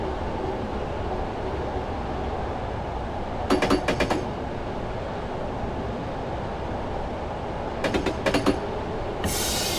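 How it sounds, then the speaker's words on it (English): A train coasts along the Sheffield to Manchester via Woodhead route in Train Simulator 2017, with a steady rolling rumble and two brief bursts of rhythmic wheel clicks over rail joints. "At this point I'm just going to allow the train to coast."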